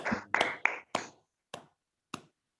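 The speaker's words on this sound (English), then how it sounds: "Let us give a good round of applause to our general evaluator, BTM Prakash, and all the speakers and all role takers." A handful of separate hand claps, about six sharp slaps spaced unevenly over two seconds, thinning out toward the end, at an online Toastmasters club meeting.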